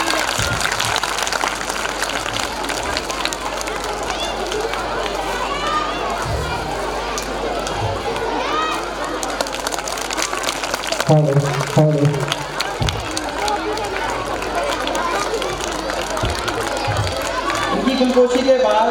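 Loud audience applause rolls on at an inaugural and prize distribution function, sustained and dense, with crowd chatter and a speaking voice running through it and a brief lull midway.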